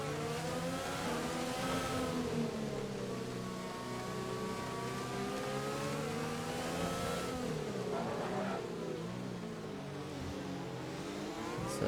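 Race car in a racing video game at an Australian circuit, engine revving up and down through several throttle surges with wheel spin, a continuous loud whining drone with rising and falling pitch.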